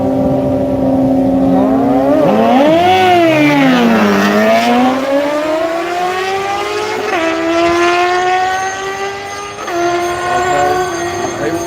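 Drag cars, including a Mustang, launch down the Yello Belly Drag Strip: loud, close engines scream upward in pitch through repeated gear changes, roaring steadily for several seconds over crowd noise.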